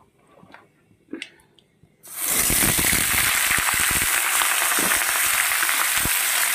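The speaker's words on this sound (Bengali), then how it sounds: "তো এটা ভাজা হয়ে গেছে, আমি সবজিটা ঢেলে দেবো" Vegetables poured into a hot pan of oil at home, a few quiet clinks and then a sudden loud, steady sizzle of frying that keeps crackling close by.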